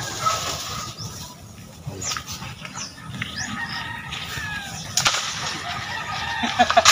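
Chickens on a rural chicken farm in Teresa, Rizal, with scattered clucks and calls rising over a steady outdoor background, fairly close and moderately loud, no clear talking.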